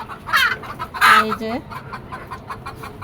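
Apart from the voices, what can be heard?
chickens clucking on a rooftop farm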